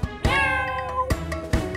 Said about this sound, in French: Le petit chat, petit chat,